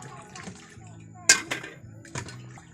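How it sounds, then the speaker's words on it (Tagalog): Soaped plates being rinsed under water during dishwashing, with soft trickling and a few sharp clinks and splashes of dishes, faint and fairly close. "Binabanlawan niya na lang yung sinasabunan ng mga plato."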